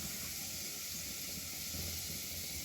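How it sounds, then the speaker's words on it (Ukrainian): A quiet, steady hiss of water heating toward a boil in a pot, with a faint rumbling bubble beneath, unchanging throughout. "І водичка в нас вже підкипає."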